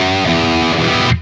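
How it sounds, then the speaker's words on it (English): A sustained, heavily distorted electric guitar tone through an amp simulator rings out, then cuts off abruptly as the noise gate closes, with a short, faint room reverb tail. "the noise gate activates and there's a little bit of reverb"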